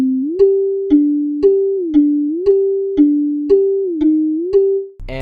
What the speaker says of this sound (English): the next sound that I added was this mallet pluck sound.